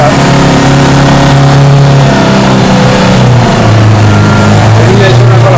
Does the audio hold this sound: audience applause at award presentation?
no